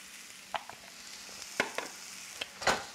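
Freshly sliced mushrooms with onions cooking in a pan for a veggie burrito, a soft sizzle under a few close stirring scrapes and clacks, no talk.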